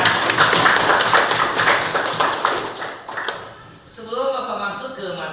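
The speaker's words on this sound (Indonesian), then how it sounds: "Tepuk tangan dulu untuk kelas ini ya." A classroom of students claps their hands together in a busy, loud burst for about three seconds before it fades, and then a voice begins talking.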